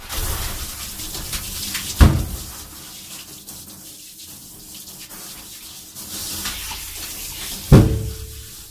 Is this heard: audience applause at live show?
no